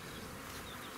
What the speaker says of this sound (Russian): Пчелы очень много